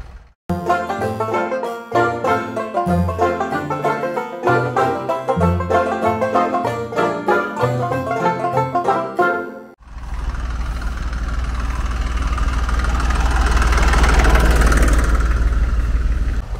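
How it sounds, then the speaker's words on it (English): Music plays for a while, then cuts to the steady, deep rumble of three Massey Ferguson tractor engines idling close by at a tractor rally at Blarney Castle, Ireland, loud and continuous. "Well, there's three tractors anyway."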